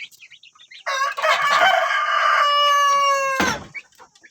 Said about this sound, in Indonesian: Saat sekarang saya di dalam kandang ayam saya